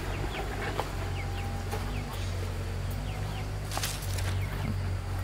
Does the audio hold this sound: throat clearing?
no